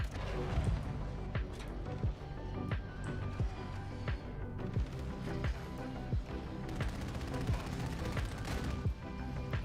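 Rapid bursts of automatic gunfire and single shots from the video game Modern Warfare 2, loud and close, repeating throughout with heavy low booms and no clear talk.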